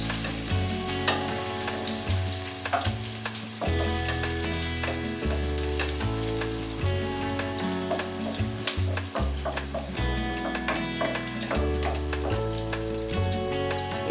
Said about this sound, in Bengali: এখানে দুটা পেঁয়াজের কুচি আছে নাড়াচাড়া করে দিচ্ছি